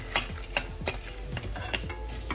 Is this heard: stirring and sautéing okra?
yes